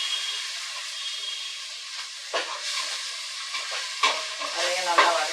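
Ground tomato sautéing in a pan, a soft steady sizzle with occasional louder scraping stirs, close and unaccompanied by speech.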